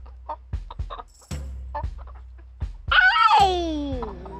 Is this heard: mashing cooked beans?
no